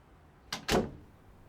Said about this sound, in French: De là, j'entrouvre la porte, quelques centimètres, pas plus.